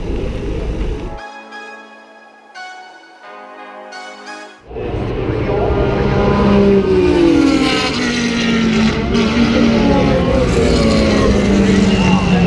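1970s race cars at the Le Mans Classic 2018, a loud engine roar rising and falling as cars pass behind someone speaking French, after a quieter stretch with a droning engine.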